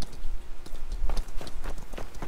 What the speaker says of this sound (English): Oh, a horse.